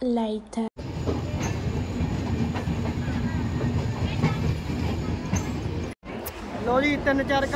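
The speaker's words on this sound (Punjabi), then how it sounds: "ਲਓ ਵੀ ਆਪਣੀ ਸੁਪਰਫਾਸਟ ਟ੍ਰੇਨ ਜਿਹੜੀ ਲਹਿਰੀ ਜੰਕਸ਼ਨ 'ਤੇ ਪਹੁੰਚ ਗਈ ਹੈ" A superfast passenger train runs on rails toward Lehri junction, its steady loud rumble and clatter of wheels filling the whole stretch, with a brief break near the start and another near the end.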